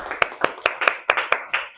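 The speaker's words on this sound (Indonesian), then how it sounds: "Tepuk tangan buat kita semuanya" Students in a classroom clap in unison, eight sharp, evenly spaced claps in quick rhythm, close and loud.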